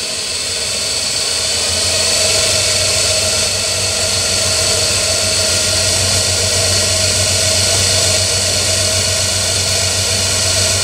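A dynamo turns at about 1500 rpm on a test bench, giving a loud, steady machine whine with a constant hum. The tone holds even and unbroken for the full stretch, with no voices.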